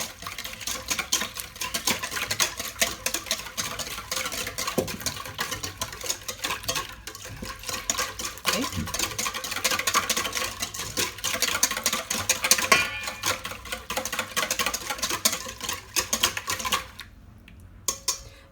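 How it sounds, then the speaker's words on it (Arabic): Apple cake batter ingredients, including milk, being mixed in a bowl, making a steady, busy run of clicking, scraping and tapping that continues for most of the stretch before briefly dropping away near the end. "غادي نخلط هاد المكونات، غادي نخدمهم جيدا، غادي نخلطهم مع بعضياتهم حتى يتجانسوا"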